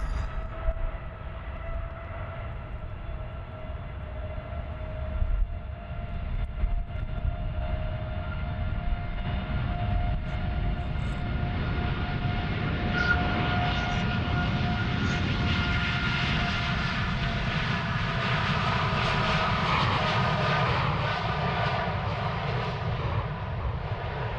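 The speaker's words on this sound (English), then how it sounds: "the Tui Dreamliner is pulling up" A TUI Boeing 787 Dreamliner taxis at Amsterdam Schiphol Airport, its jet engines producing a steady, broad roar that swells slightly louder partway through and holds at a moderate distance.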